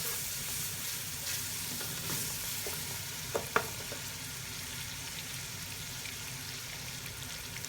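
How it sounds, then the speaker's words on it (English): Onions caramelizing in a pan for chicken korma curry sizzle and fry steadily, with a few scrapes and taps of the stirring utensil partway through; no talking. "you want to just stir through your onions so they don't burn"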